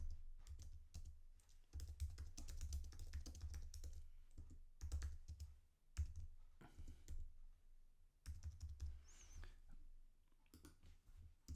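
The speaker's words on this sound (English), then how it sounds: "I could also type in some feedback, so I can say," Someone types feedback into a Microsoft Forms homework activity on a computer keyboard, producing a steady run of key clicks in short bursts with brief pauses, all over a heavy low background rumble.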